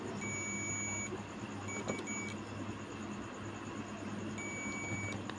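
A multimeter in continuity buzzer mode, probing an SMD resistor, gives three faint, steady high-pitched beeps of about a second each, separated by gaps, over a low background hum.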